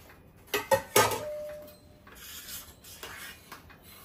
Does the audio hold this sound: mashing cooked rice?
yes